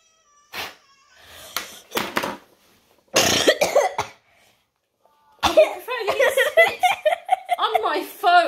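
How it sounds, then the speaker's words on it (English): A few short, sharp coughs come in bursts separated by pauses, followed by excited talking and laughter. "You see the spit pull out when she coughs."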